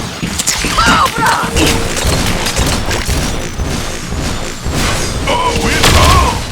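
A grenade blast in the G.I. Joe Operation Blackout video game, with dull low booms and crashes inside dense, continuous combat noise while voices talk over the action.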